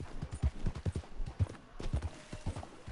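Horse hooves clip-clop in Red Dead Redemption 2, a black horse trotting in a steady close rhythm of dull thuds, with no voices over them.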